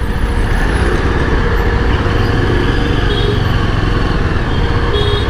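Bus driving past on a highway on the Delhi to Kurukshetra route, heard amid steady dense traffic and wind roar, loud and continuous with no clear pass-by peak.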